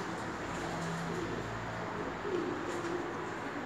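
Gök Şeş pigeons coo softly and repeatedly in a coop, low murmuring calls over a steady background hum.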